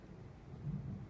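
Thunder during a lightning storm, heard faintly as a low, distant rumble that swells slightly over about a second, with a soft wash of rain-like noise behind it.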